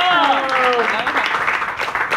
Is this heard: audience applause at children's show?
yes